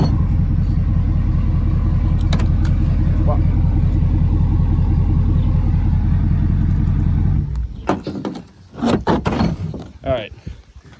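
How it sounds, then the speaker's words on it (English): A loud, deep truck engine rumbles continuously, then cuts out partway through, followed by clicks, clatter and a voice. "the truck's kind of loud"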